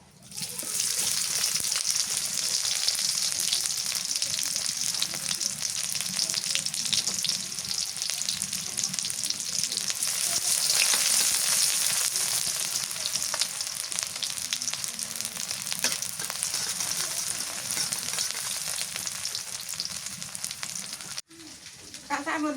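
Onions frying in mustard oil in a pan on a home stove, a loud, steady close-up sizzle and crackle that runs continuously, with faint stirring and no speech over it.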